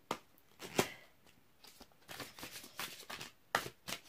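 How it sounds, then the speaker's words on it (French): Tarot-style cards being shuffled and drawn during a reading, faint close papery flicks and slides in irregular bursts, quiet and without talk. "on va tirer une petite carte de cœur et âme."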